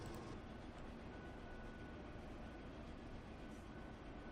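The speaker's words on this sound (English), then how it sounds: "try and get away from the steam trains" Steam locomotives race along rails in the Transport Fever video game, a steady, continuous rumble of rolling train noise at low level throughout, with no speech.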